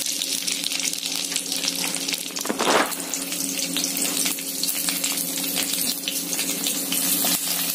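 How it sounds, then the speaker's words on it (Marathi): Ten green chillies frying in two small spoons of hot oil, a loud continuous crackling sizzle up close, with a brief stirring burst partway through. "आपण हे मिरच्या चांगले भाजून घेणार आहोत"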